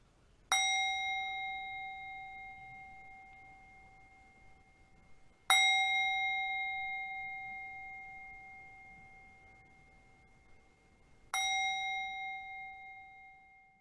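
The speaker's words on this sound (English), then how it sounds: "Let's begin our service today with some bells in celebration." Three clear, ringing bell strikes open a church service, each spaced about five seconds apart. Every bright, pure tone rings out and slowly decays in a quiet room with no voices.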